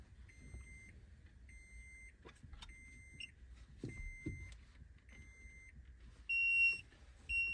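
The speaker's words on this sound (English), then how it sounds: "you'll get a series of beeps, then you'll get the extended beeps" A 2005-2010 Toyota Tacoma sounds a series of clear electronic beeps while a replacement key fob is programmed. Several evenly spaced short tones end in a louder, longer beep, heard close inside a quiet cab.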